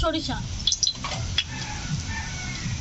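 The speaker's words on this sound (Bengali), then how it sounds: "তেল গরম হয়ে গেছে, ফোড়নে দিচ্ছি 2টো শুকনো লঙ্কা" Two dried red chillies hit hot oil for a Bengali village-style papaya tempering, bursting into a sharp sizzle with a few crackling pops that settle into a softer fry as a voice talks over it.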